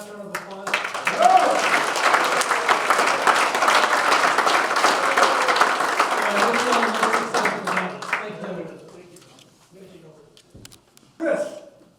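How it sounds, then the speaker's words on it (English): Audience applause for the candidates at the close of an Arizona House of Representatives District 25 debate, a sustained, fairly loud round of clapping that fades out, followed by brief quiet and a short burst of voice. "If we get one last round of applause."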